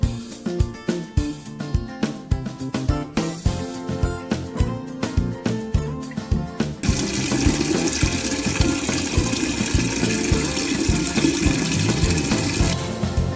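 Water rushes from a freshly installed C Pure Oceanloch-M commercial water filter into a separate container, a steady loud hiss that starts after rhythmic background music and then runs continuously.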